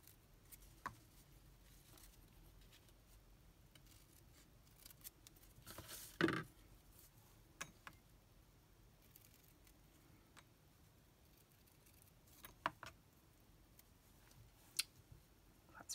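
Scissors trim a ribbon bow for a gift box in a quiet craft setting, giving a few sparse, faint snips and clicks, with one sharper cut near the middle.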